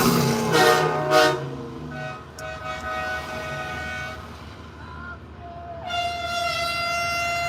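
Truck air horns sound from a trucker convoy on Family Day, two short loud blasts first, then fainter tones farther off, then a long sustained honk near the end over steady road rumble.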